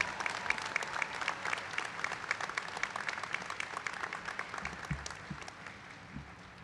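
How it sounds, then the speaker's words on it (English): Commencement crowd applauding graduates at a 2023 college ceremony, a dense, sustained round of clapping that gradually thins and fades toward the end. "Let's hear a round of applause and respect for these graduates."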